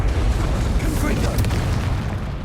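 A Confringo spell explodes in the video game Hogwarts Legacy, a loud, sustained, rumbling blast with crackling bursts that fills the whole moment.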